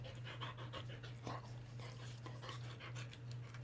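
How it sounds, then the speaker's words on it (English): A person panting heavily and rapidly in a steady rhythm of close breaths, fairly loud, over a constant low hum. "Quit breathing so heavy."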